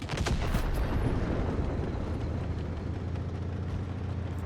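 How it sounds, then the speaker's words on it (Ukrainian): A tank cannon fires in the mobile game WoT Blitz: a sharp, booming blast right at the start, followed by a continuous low engine rumble and game ambience for the rest of the moment. "Тричі він стріляє."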